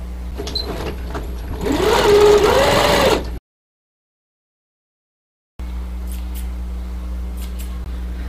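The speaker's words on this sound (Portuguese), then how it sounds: "Com a distância de um pezinho de máquina, eu vou iniciar a costura com arremate." A sewing machine stitches a doll's sleeve with a finished seam, running in a steady close whir for a few seconds, stopping, then whirring again.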